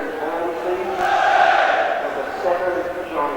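Leeds United supporters at St Andrews fill the ground with a loud, massed football crowd roar, swelling into chanting that rises and falls, with a commentator's voice over it.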